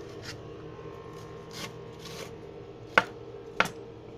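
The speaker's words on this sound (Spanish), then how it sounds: "Mientras tanto, picamos nuestra cebolla." A knife cuts a red onion into fairly large chunks on a board, with soft scraping and slicing strokes, then two sharp distinct chops close up, without speech.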